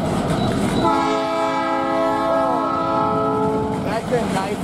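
A loud, sustained multi-tone P3 locomotive air horn on a CN freight train blares for about three seconds over the rumble of the passing train, trailing off with a falling tone.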